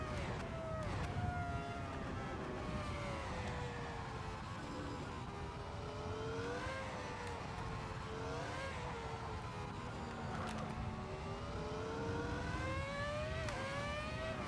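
A Formula 1 style race car lapping the Nürburgring in a racing game screams continuously, its loud, close engine pitch climbing and dropping through gear shifts and braking.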